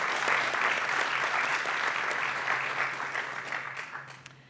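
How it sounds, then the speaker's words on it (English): Audience applause from participants at an international AI ethics forum, a steady even patter of many hands that holds for several seconds and then slowly fades. "And I think we need a round of applause for that."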